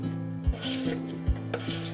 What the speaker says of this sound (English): I always use a spoon to scrape the edges because it's always frozen onto the edges.